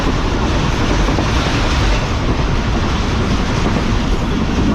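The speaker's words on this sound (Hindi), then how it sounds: "ट्रेन आहिस्ता आहिस्ता एक्सीलरेट कर रही है और 100 को टच" A Karachi Express passenger train runs at close to 100 km/h, giving a steady, loud, dense rumble and rushing roar with a faint rhythmic clatter of the wagons throughout.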